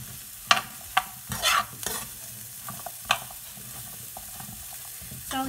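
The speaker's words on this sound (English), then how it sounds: "I'm just going to mix that up. Get that to saute until the next step." A cauliflower stuffing mixture sautés in a pan while being mixed, giving a low steady sizzle broken by several sharp, close spoon clinks and scrapes at irregular intervals.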